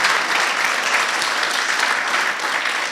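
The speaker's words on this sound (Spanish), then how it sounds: "Un aplauso a nuestro Dios de los ejércitos." A church congregation breaks into dense, steady applause during a sermon, a loud wash of many hands clapping together without pause.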